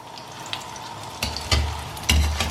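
Eggs fry in very hot oil in a pan with a crackling sizzle that swells in sudden louder bursts, heavy spattering near the end, close up and with no talking.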